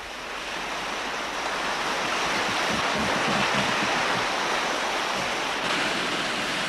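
Fast-flowing river rapids on a canoe slalom and wildwater course at Nymboida, Australia, roar as a steady, loud, dense wash of rushing water with no voices.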